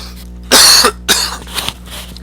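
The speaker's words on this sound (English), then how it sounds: "now this cold and this cough is coming back on" Two harsh, close coughs in quick succession, the second shorter, followed by a faint throaty rasp against a quiet hum.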